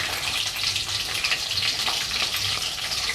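Mustard seeds, cumin, peppercorns and green chilies fry in hot oil for an egg curry, a steady close hiss of sizzling with a faint low crackle running throughout, no talking.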